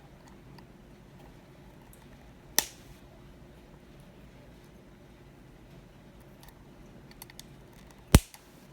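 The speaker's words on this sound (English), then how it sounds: "Just go ahead and cut the leads on this." Two sharp, isolated clicks of wire cutters snipping coil leads on a Washington 24mm RDA, spaced several seconds apart over a quiet room hum.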